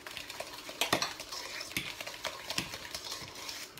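A wooden spoon stirring sugar into batter in a big bowl for a vegan walnut and chocolate Guglhupf, irregular knocks and scrapes against the bowl, close and fairly sharp, with no speech.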